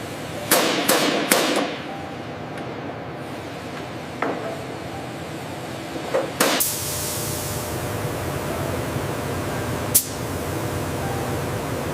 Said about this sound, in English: We'll secure the lower rivets now.